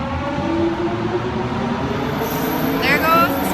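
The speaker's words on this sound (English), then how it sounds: "There goes the SkyTrain." A SkyTrain elevated metro passing by in the city, a steady loud rumble of wheels and motor with a rising whine near the end, heard close up.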